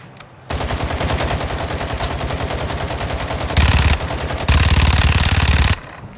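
Loud, rapid automatic gunfire from Call of Duty DMZ plays in long sustained bursts, with a brief pause and a harder, heavier stretch near the end before cutting off.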